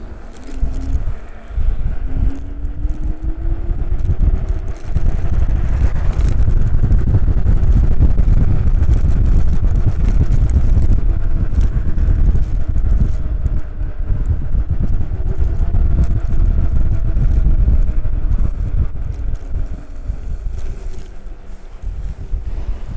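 Currus R11 electric unicycle ridden at speed: heavy, loud wind roar buffets the microphone continuously, with a faint motor whine rising and falling underneath.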